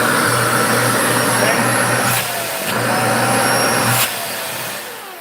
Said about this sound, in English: so I'll turn this one on